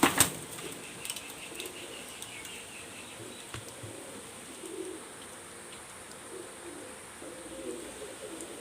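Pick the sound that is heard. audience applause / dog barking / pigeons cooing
pigeons cooing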